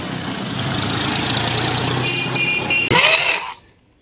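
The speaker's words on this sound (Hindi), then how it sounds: "ट्रैक्टर गाड़ी, कितनी प्यारी प्यारी ट्रैक्टर गाड़ी," A tractor engine rumbles steadily at idle, fairly loud and close, then surges briefly before cutting off near the end.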